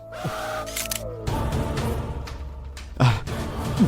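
A phone camera shutter clicks sharply a couple of times during an indoor scene in a Marathi TV drama, crisp and close over a steady low background hum.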